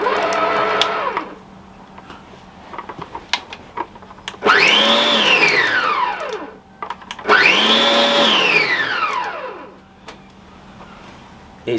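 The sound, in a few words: budget stand mixer running on pulse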